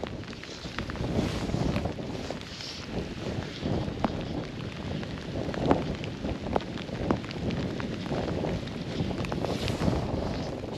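Steady wind gusts across an open lake during early-autumn stillwater trout fly fishing, buffeting the microphone in a continuous, fairly faint rush with occasional soft knocks and no speech.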